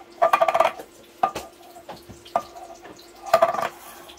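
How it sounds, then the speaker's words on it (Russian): A can of corn being rinsed with a small amount of water in a home kitchen, heard as a few short bursts of splashing and clattering against the tin, spaced apart and close by. "все ополаскивается малым количеством воды"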